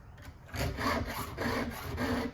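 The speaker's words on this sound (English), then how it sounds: "So now I'm just finishing up this chainsaw." A hand file rasps across a chainsaw chain's cutters in several short, even back-and-forth strokes close up, each stroke a gritty scraping rub.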